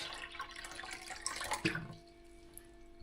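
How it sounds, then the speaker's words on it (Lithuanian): Filtered, unboiled water is poured into a container to make salt brine for pickling beetroot, a soft, close splashing trickle lasting about two seconds before stopping, followed by near silence. "Vanduo nevirinta pilu aš."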